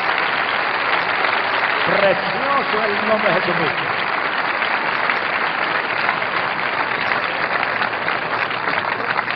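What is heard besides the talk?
congregation applause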